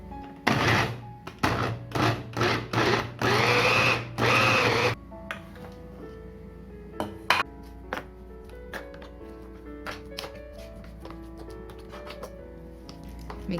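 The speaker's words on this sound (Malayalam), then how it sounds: "എല്ലാം കൂടെ ഒന്ന് പൊടിക്കാം." A mixer grinder blends keto idli batter with curd and oil in short, loud whirring pulses, about six bursts in quick succession, then stops as quieter tinkling tones continue.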